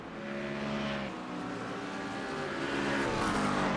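Race car engines from the iRacing video game at Brands Hatch, a steady, loud, droning roar of several cars revving and holding pitch together, with no voices.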